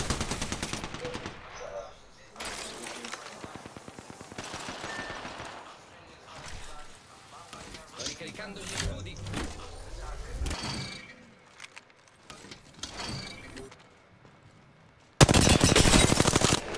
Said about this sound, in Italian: I nemici mi stanno sparando.